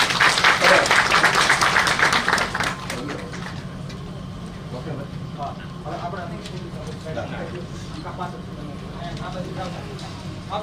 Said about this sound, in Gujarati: બધા તાળીઓથી વધાવીએ